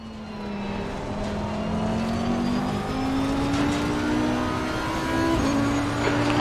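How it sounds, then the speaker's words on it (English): GT3 race cars in Assetto Corsa Competizione at Brands Hatch, a loud steady engine drone with rising and shifting pitch as a car passes and accelerates, sustained throughout with no voices. "Car on the left. Clear on the left."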